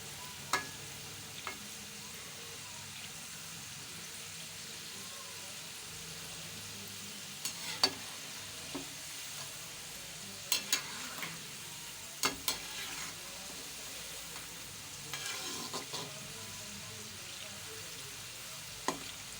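Potato finger chips fry quietly on a low flame, a soft steady sizzle with occasional light stirring clicks and pops, gentle and close with no talking.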